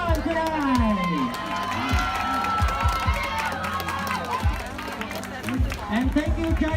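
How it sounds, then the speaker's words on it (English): Crowd cheering and clapping at the Vietfest community festival, loud and lively with shouts, whoops and children's voices layered over scattered applause throughout. "a round of applause for everyone today"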